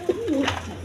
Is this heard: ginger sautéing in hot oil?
no